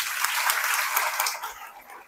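An audience at a women's political gathering in Pune applauds for the Pune team, a brief steady wash of many hands clapping, fading slightly near the end.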